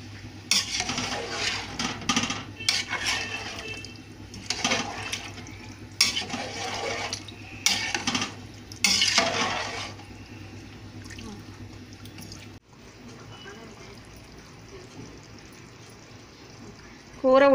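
Chicken curry being stirred in a pan, with a series of scraping, clattering stir strokes in the first half, then a quieter simmering stretch afterward.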